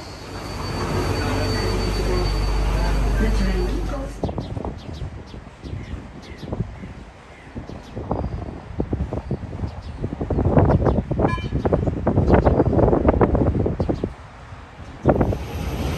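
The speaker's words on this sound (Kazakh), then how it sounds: "Мынакей центрге алып бара турган метро келди." An İzban commuter train pulls into a station in Izmir: a heavy rumble gives way to clattering wheels, squeals and rattling carriages that rise and fall, close by and loud, for several seconds.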